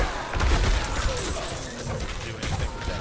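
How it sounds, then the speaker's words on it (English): An explosion in the action role-playing game Diablo 4, heard as a loud burst of crashing, crackling impacts that rumble on and settle over about three seconds with no speech. "Let's see what this explosion does."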